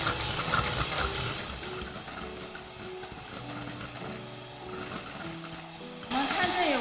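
An electric mixer whips egg whites on high speed for a gula melaka palm sugar chiffon cake, giving a steady, fairly loud whirring hum that runs throughout under soft background music.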